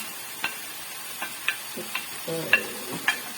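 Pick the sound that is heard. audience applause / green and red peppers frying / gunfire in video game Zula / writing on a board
green and red peppers frying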